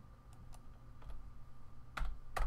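Computer keyboard typing, sparse individual key clicks with a couple of sharper louder strikes near the end, close and quiet with no talking.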